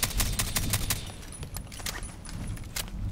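Suppressed VSS Vintorez rifle fire on full auto in a shooter game: a steady stream of quick, close, clattering shots rattling without a break for about three seconds.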